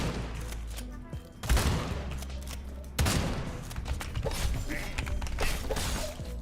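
Gunfire in a video game, with bursts of shots landing around 1.5 and 3 seconds over a busy, dense game soundscape, loud and close, with talk mixed in.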